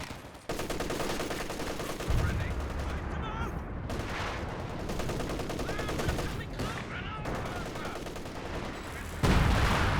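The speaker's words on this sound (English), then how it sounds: "howitzer fire coming in on the building" Heavy howitzer artillery fire and dense gunfire from the video game Company of Heroes 2, with rapid bursts of shots layered continuously over a loud battle mix, booming impacts near the start and end, and a commentator talking throughout.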